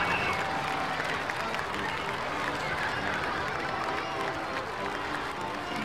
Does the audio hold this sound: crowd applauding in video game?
yes